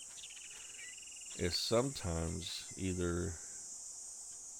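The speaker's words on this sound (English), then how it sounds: "cicada bugs, just background cicada noise" A steady, high insect drone of cicadas runs through the whole stretch as ambient background in the video game 7 Days to Die, with someone talking over it partway through.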